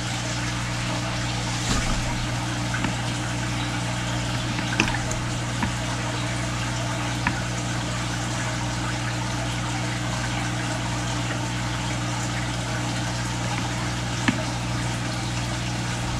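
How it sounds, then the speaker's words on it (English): Water trickles and drips steadily from airline tubing through a small control valve while a fish is acclimated for a 29-gallon aquarium, a faint continuous flow over a low hum with occasional soft drips and no talking. "I just have this little airline control valve on the end, and you just kind of open it up and then water will start coming out."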